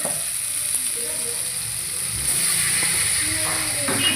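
Washed chicken pieces hit hot oil spiced with ginger and garlic, giving a steady, even sizzle and hiss throughout, with faint kitchen background underneath.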